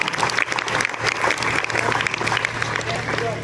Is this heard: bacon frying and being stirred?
no